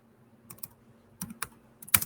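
A few short bursts of computer keyboard typing, sparse clicks in small clusters separated by near-silence, close and fairly quiet.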